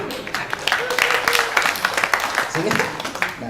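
Audience clapping at a religious lecture, a crowd applauding in a continuous burst, with a voice speaking over the clapping.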